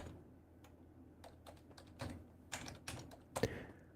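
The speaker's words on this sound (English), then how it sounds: "Oh, my typing is so bad" Someone typing a search on a computer keyboard, quiet scattered keystrokes that pick up into a quicker run of taps near the end, close and fairly soft over a low background hum.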